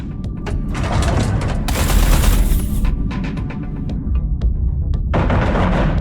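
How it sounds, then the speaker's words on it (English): Heavy artillery fire pounds a carrier in the space combat game EVERSPACE 2, a dense, rumbling barrage of booms and rattling bursts that swells loudest midway and keeps going throughout without a break. "concentrate artillery fire on Blakemore's carrier"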